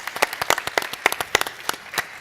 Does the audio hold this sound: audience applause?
yes